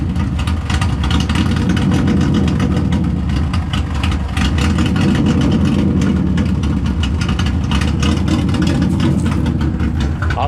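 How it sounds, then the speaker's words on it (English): A Subaru engine idles loudly with an exhaust leak just before the muffler, a deep, rough, continuous rumble with a lumpy, heavy-cam-like lope, close and steady throughout. "I finally got it to idle, so it's sitting here sounding like it's got a massive cam"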